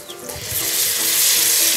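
Garlic sizzles as it goes into a hot frying pot during home cooking of rice with corn, peas and carrot, a steady hissing sizzle building after a soft first moment and holding close and loud, no voices.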